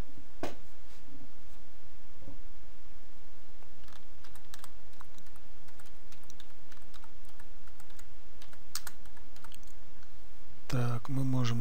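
Rapid clicking of a computer keyboard as text is typed into a slideshow program, a close, steady patter of keystrokes running through the whole stretch, with a brief voice near the end.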